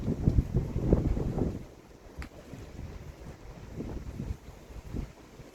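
Gusty wind rumbles and buffets in low bursts, strongest at the start, then settles into a steady softer roar.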